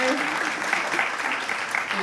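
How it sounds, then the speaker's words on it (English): A panel discussion audience gives a guest named Sharon a round of applause. The dense clapping holds steady throughout with voices mixed in. "Give her a round of applause."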